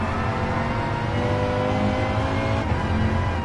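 A Peugeot road car in a racing video game drones at steady high revs, its loud, sustained engine tone unbroken for the whole stretch.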